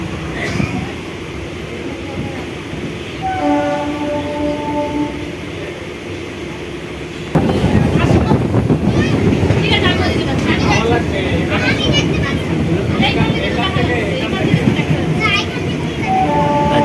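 Inside a moving train running from Ranaghat to Sealdah, a continuous rumble and rattle grows noticeably louder partway through, with voices and a few brief high tonal sounds.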